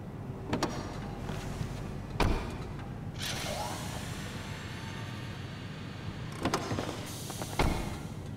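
Hyundai N Vision 74 (Envisage) in GTA 5 Online powering up with a rising rocket-like whoosh around the middle, with short thumps and clicks before and after it, then a sighing air-suspension-like settle as it shuts off. There is no talk.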